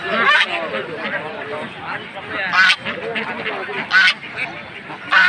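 Ducks quack loudly and repeatedly at a weekly poultry market, with bursts of honking over a person talking and a background hubbub.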